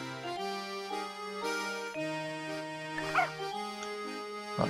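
A cartoonish dog in the Professor Layton video game yips and barks in short repeated tonal bursts over light game music.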